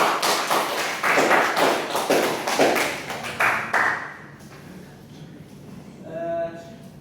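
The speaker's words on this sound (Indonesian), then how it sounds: "Tepuk tangan untuk teman-teman." Short burst of classroom applause as pupils clap for their classmates, a few seconds of scattered, uneven claps that fade out, followed by a faint tonal ring near the end.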